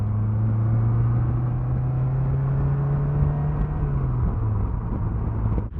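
A 2022 Slingshot SL three-wheeler accelerating, its engine droning in a steady rising tone that holds, then eases off near the end, heard from on board with road rumble underneath.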